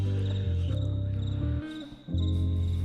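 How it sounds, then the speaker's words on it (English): A cricket chirps steadily over a music track with a deep, pulsing bass line that briefly drops out, the insect's thin high trill running faintly on top. "I did just notice that there's a cricket keeping beat on this track."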